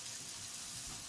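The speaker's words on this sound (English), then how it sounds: "as I'm cooking this sausage that's going to go, or fake sausage that's going to go on the pizza, this vegetarian sausage" Vegetarian sausage sizzling in a hot pan, a steady faint hiss of frying with no break.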